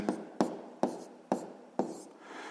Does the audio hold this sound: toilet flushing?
no